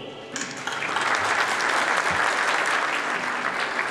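Loud, sustained applause from a large crowd at a skating awards ceremony, swelling quickly and holding steady throughout.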